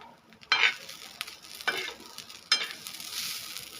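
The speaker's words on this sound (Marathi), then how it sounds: "आता आपलं खोबर हे भाजलेलं आहे मस्त छान हो का वाफा छान निघायला लागलं का" Grated coconut roasting in a pan, with a steady dry sizzle underneath and several sharp scraping strokes as a spatula stirs it, close and moderately loud without speech.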